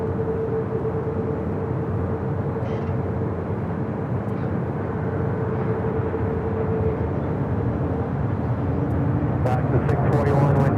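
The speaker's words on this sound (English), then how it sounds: "KLM flight 602 heading back to Amsterdam. Rolling down the 25 at right on the south side." A KLM airliner rolls down runway 25 right at LAX on its takeoff run, a steady, broad jet roar holding throughout at a distance, with a faint sustained engine tone and some sharper noises near the end.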